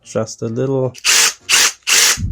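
A brief voice is followed by three short, loud whirring bursts of a power drill on clutch setting 3 driving a screw, spaced by quick pauses.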